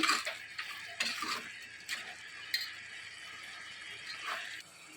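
A spoon stirs mutton with ginger garlic paste in a pot, producing a series of soft scraping and clinking strokes against the metal at a moderate, irregular rhythm, fairly close and quiet.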